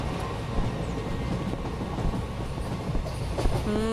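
Train running in a horror video game: a continuous rumbling rattle from inside the carriages, with faint rhythmic clatter and a brief metallic squeal near the end.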